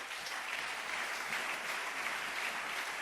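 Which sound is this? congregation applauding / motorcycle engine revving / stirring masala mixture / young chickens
congregation applauding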